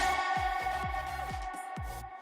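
A heavily reverberated a cappella vocal tail from a future house production sits as a sustained, washed-out tonal smear over a steady pulsing kick pattern, fading gradually across the whole stretch.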